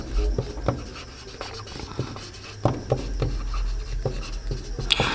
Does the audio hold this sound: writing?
yes